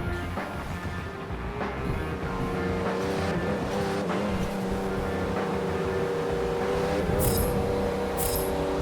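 Race cars starting a race in a racing video game, engines droning and revving together in a dense, continuous roar that holds steady throughout.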